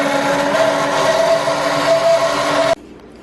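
An immersion blender whirs loudly and steadily for close to three seconds, a close, harsh motor drone that cuts off abruptly, leaving near silence.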